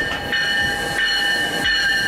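A train passes nearby on a rail line in the Boston area. It gives a steady rumble with a sustained tonal hum and rhythmic swells of rolling noise over the two seconds, and no one speaks.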